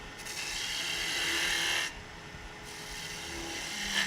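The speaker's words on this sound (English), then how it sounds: "I'm gonna switch back to the spindle gouge." A spindle gouge cuts wood on a lathe, a steady close scraping hiss that drops briefly and then resumes, with no talk.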